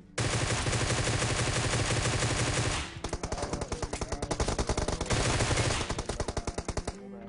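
PUBG Mobile gunfire: roughly three seconds of sustained automatic fire, then rapid repeated bursts of shots with a brief lull near five seconds, loud and close.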